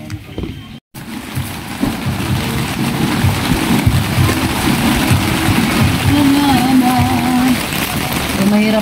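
Rain falls steadily at a market, a dense continuous patter close by, with faint voices and some background noise mixed in under it.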